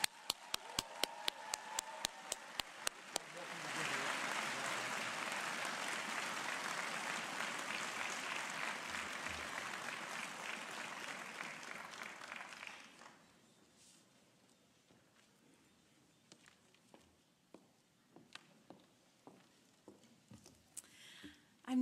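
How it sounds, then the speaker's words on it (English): Audience applause at the Lake Forest College 2018 commencement at Ravinia Festival: a few sharp isolated claps, then a dense burst of crowd clapping for about ten seconds that cuts off, leaving scattered claps and light shuffling. "I ask everyone to join me in a round of applause."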